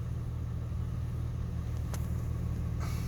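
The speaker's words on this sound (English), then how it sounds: "Starts up with a little bit of hesitation for its age, which really isn't that bad. Idle is really smooth." A 2003 Honda Odyssey EX-L minivan with 149k miles idles smoothly just after startup, a steady low engine rumble holding even throughout with a faint brief tick partway through.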